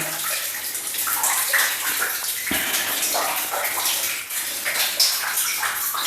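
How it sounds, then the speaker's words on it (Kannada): Clean water flowing inside a cave at a temple spring, a loud, continuous, close gushing and splashing that runs steadily throughout with no voices. "ನೋಡಿ ಪರಿಶುದ್ಧವಾದ ನೀರು ಈ ಭಾಗದಲ್ಲಿ ಈ ಗುಹೆ ಒಳಗಡೆ ಹರಿತಾ ಉಂಟು"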